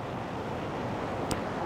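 Ocean waves wash on the shore as a steady broadband roar, continuous and fairly even, beside a rainy car-camping spot with a brief click near the end.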